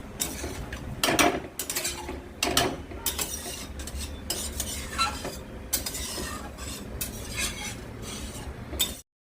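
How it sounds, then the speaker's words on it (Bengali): Fish curry gravy boils hard in a pan, a close run of irregular bursting pops and splutters that rise and fall in clusters before stopping abruptly. "পুরো ঝোলটা ফুটে গেছে ভালো করে, টকবক করে"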